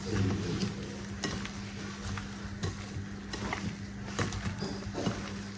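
Salted kelewele, fried plantain pieces, being mixed in a pan, with scraping stir strokes and clicks over a low steady background hum and soft sizzle, no talking.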